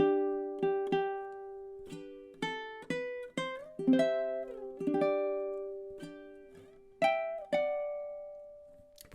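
Fingerstyle ukulele picks the opening four measures of Shenandoah, with clear plucked notes and small chords ringing and decaying one after another at a slow, gentle pace, close and quiet.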